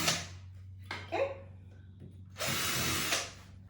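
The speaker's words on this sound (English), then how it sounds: "with the masonry bit, you want to let the masonry bit do the work" A masonry bit in a hammer drill bores into a wall in short bursts: a brief whir, a couple of quick pulses, then a longer loud grinding run near the end, with quiet gaps between.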